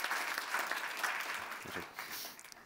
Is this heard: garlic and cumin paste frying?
no